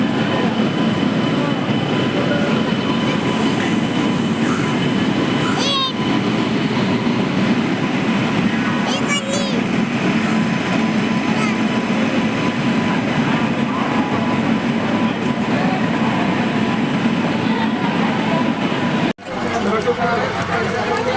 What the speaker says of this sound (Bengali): তো এখন ট্রেনের মধ্যে উঠে বসে পড়েছে